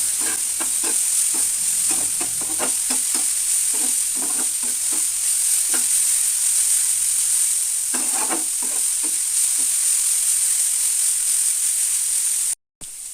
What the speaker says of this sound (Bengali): গাজরটাও একটু ভাজা ভাজা করে নেব।